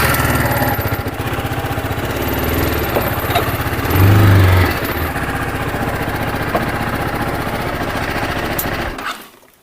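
A motorcycle engine running as the bike is moved indoors before rain, a loud, close, steady rumbling drone that swells briefly midway and then cuts off at the end.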